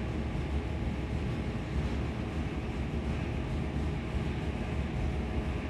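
A car engine idling steadily on a dynamometer, with fuel and oil pressure up, gives a continuous, fairly loud broadband rumble with no talk over it.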